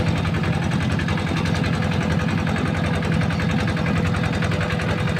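A farm tractor engine runs steadily while driving out to the rice fields, giving a continuous rhythmic chugging and vibrating rattle, close and even, with no talk over it.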